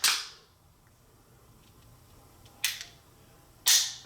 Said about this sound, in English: There's a snap cap in there right now.